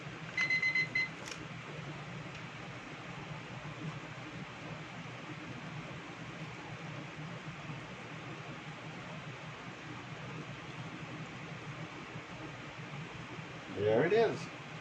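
A kitchen timer sounds a short burst of repeated high beeps near the start over a steady broadband hiss, with a brief louder knock near the end; speech is present.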